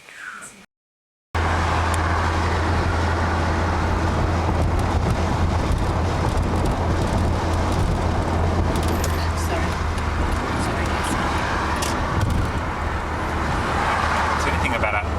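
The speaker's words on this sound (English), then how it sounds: "The trucks coming down this freeway I really hate." Steady, dense roar of freeway traffic with heavy trucks rolling past, a continuous low rumble and wind buffeting close to the microphone after a brief silent gap at the start, with occasional swells as vehicles go by.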